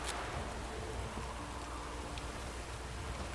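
Steady driving rain in the video game The Witcher 3, a soft, even hiss of downpour that fills the scene quietly and continuously, with no talk.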